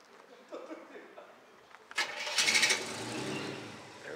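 Orange hot rod car engine starting in The Hague, a few cranking sputters that catch into a loud rumbling roar and settle to an idle, with a voice nearby.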